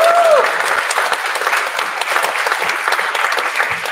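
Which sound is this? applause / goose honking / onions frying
applause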